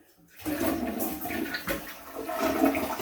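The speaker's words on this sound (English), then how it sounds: "that's our 3rd flush" A newly replaced toilet, checked after unclogging, flushes with a sudden rush of water that swirls and gurgles steadily for several seconds, close and fairly loud, with no talk.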